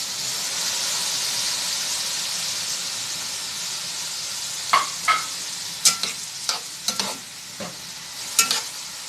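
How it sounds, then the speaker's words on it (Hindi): Vegetables sauté in a pan with stock, giving a steady close hiss and sizzle, later broken by a series of sharp scraping clicks from stirring. "अभी सब्जियां सौते हो रही हैं।"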